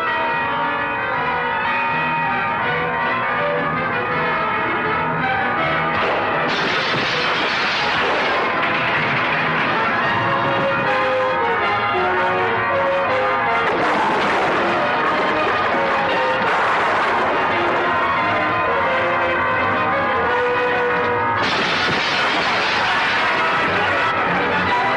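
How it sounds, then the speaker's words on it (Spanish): Several large church bells peal loudly together, their overlapping strikes ringing continuously and swelling in waves. "Escucha, todas las campanas tocando."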